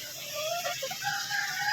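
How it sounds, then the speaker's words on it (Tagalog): Faint chicken clucks and a short rising call drift over a steady outdoor hiss, brief and somewhat distant. "manok siya dito. May manok."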